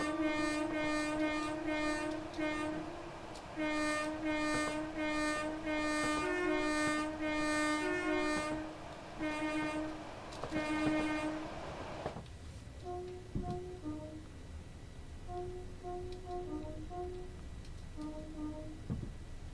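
An IET train running on diesel in Train Sim World, sounding a loud repeated two-tone horn in pulsing blasts for about twelve seconds, then shorter fainter horn notes over rumbling running noise.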